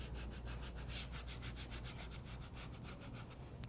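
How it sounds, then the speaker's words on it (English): Scraper tool rubbed firmly over transfer tape laid on vinyl furniture decals, a steady rhythmic scratchy rasp of repeated strokes, close and continuous with no talking. "So just scrape it firmly in place"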